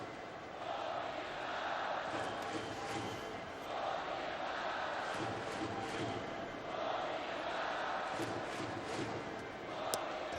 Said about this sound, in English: All you can hear right now are the fans in the left field stands, and they, of course, are all Eagles fans